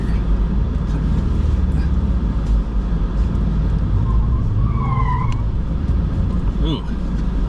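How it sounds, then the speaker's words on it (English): Inside an AWD car on the Broken Arrow dirt trail, a steady loud engine and road rumble fills the cabin, with brief whines and squeals as the wheels lose grip and spin; a voice is heard. "Ooh, that was a lot of spin wheels."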